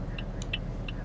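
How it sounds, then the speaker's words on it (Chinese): A car's left turn indicator ticks faintly during a driving-test start-up routine, a few light, evenly spaced clicks over a steady low engine hum, with no talking. "显示左方向灯"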